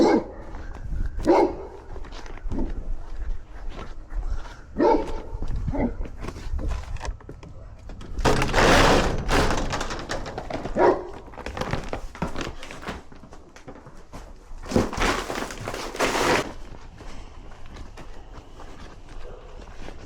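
Several dogs bark in loud, repeated bursts at close range, with scattered quieter barks, clattering steps and background noise between them.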